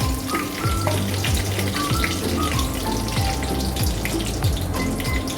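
Dried red chillies fry in hot oil for an Indianised Indonesian chilli garlic prawn sambal, giving a steady, close, dense sizzle and crackle that runs unbroken with no talking.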